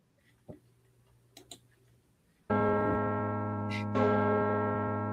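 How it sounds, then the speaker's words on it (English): A bell chiming: a few faint ticks and knocks, then a loud, rich, sustained ringing tone that starts abruptly and keeps sounding, swelling slightly as it continues. "The bell chiming high over the collective heads of our Chimera candidates."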